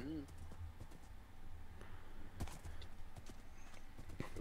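Horse hooves clip-clop in the video game Minecraft as the horse is ridden, a light irregular patter of steps heard under a person talking.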